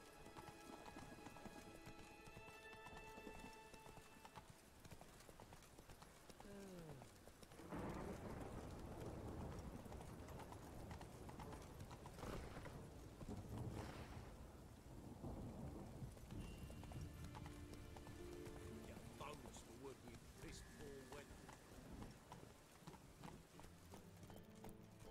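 Roach the horse galloping in The Witcher 3, rhythmic hoofbeats pounding steadily under rain and rumbling thunder, with game music playing throughout.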